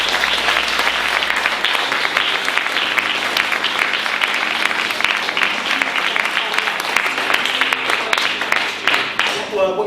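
A room full of people at a motivational talk gives a loud, sustained round of applause, dense clapping layered over background music and murmuring voices, steady for the whole stretch.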